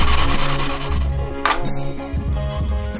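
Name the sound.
sanding a repair area on a paramotor frame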